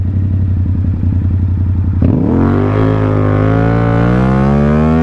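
A Honda Goldwing and a Yamaha R7 motorcycle race each other, loud steady engine drone building into a sharp rising rev, with pitch climbing continuously as the bikes accelerate hard.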